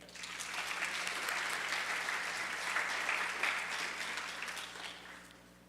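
Audience applause at a scholarship and award presentation, a dense burst of clapping that swells, holds for a few seconds and fades out.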